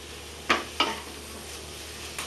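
A spoon scrapes twice through a Bengali-style radish greens curry with potato and eggplant in a pan, then once more after a pause, over a faint background hiss.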